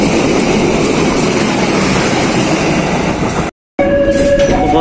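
The Serayu passenger train arriving at Tasikmalaya station rumbles loudly and continuously with broadband rail noise, then cuts briefly before clattering and tonal squeals resume.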